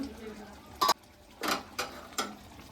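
A lid is set on a cooking pot of Golbari-style chicken kasha: four short metallic clinks and clatters, one sharp and then three lighter ones in quick succession, close by in an otherwise quiet kitchen.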